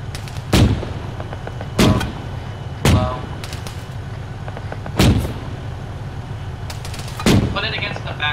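Gunfire in Arma 3 around a burning Bradley, five loud, sharp single shots spaced about a second or two apart, each with a short echoing tail over a low steady hum.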